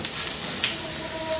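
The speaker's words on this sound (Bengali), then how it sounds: "দিয়ে একটু ভেজে নিই রসুনটাকে।" Grated garlic frying in oil on high heat, a short burst of bright, steady sizzling with faint crackles, close by and alone.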